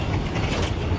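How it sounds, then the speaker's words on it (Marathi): A metro train passes close by on a line under construction near a village, giving a steady, dense mechanical rumble and rattle that holds at an even level for about a second with no voices. "त्या मेट्रो चालली तशी."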